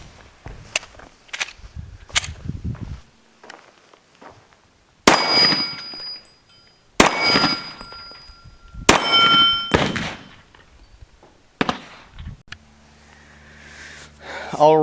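Gunshots from a Glock 36 pistol at a shooting range ring out as sharp, loud single cracks, several spaced a second or two apart, with quieter metallic clinks and handling noise between them.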